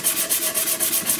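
Hand sanding on wood, a steady back-and-forth rubbing with about nine even strokes, close and fairly loud, no voices.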